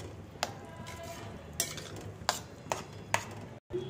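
Paneer being stirred into a corn sabji in a pan, a quiet steady low bed broken by five or six short scraping clinks of the spoon against the pan at irregular intervals.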